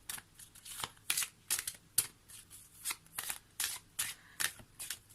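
Cards from a Halloween oracle deck are riffled and shuffled in about a dozen quick, crisp papery bursts, close and fairly soft, with no talking.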